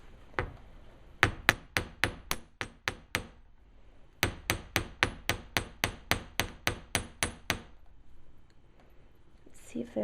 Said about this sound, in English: I'm just going to hammer one little piece